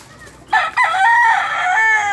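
A rooster crows once, close and loud, a drawn-out cock-a-doodle-doo rising then holding before trailing off.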